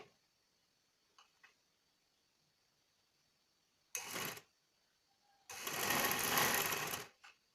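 A sewing machine stitching a frill onto a skirt, two bursts of rapid mechanical stitching, one short and one longer, close and clear over a quiet background with faint ticks between.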